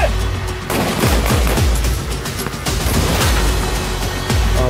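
Loud, dense gunfire on an Indian Army firing range at a battle school in Khrew, with rapid overlapping shots and booming reports continuing throughout, with no talking.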